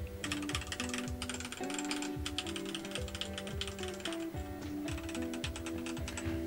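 Typing on an Azio Cascade98, a 98% prebuilt mechanical keyboard with screw-in stabilizers, gives a close, continuous run of crisp key clacks in quick, uneven bursts.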